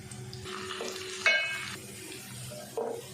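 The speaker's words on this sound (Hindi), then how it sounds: "प्याज को अच्छे से हमने भून लिया।" Chopped onions frying and being stirred in a pan for dhaba-style mash dal, a steady soft sizzle with scraping stirs and two sharper clatters of the spoon, close and moderately quiet.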